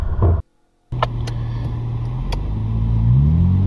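A 4WD engine rumbles and revs while driving through desert sand dunes on the Vic Desert Border Track, a steady low drone that swells toward the end after a short gap, with a few sharp clicks and knocks.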